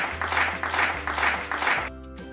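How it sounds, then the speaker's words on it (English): A group claps in a quick rhythmic pattern, several bursts in a row, with a steady low tone humming underneath. "Let's give Angel a 5 clap."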